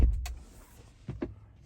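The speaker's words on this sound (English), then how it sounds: "Nice door thunk." The door of a Chevrolet Silverado EV pickup truck shuts with a dull, low thunk, followed by a couple of softer, muffled knocks inside a quiet cab.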